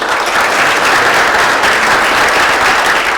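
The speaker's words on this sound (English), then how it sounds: "I just want to give him a round of applause if that's okay." An audience at a business talk gives a full, steady round of applause, dense and continuous throughout, loud and close with no speech on top.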